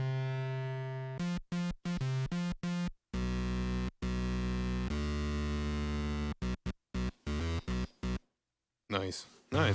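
Donner B1 synthesizer with heavy, dirty distortion plays a choppy run of short and held notes, loud and close with abrupt gaps, ending in a brief noisy flourish.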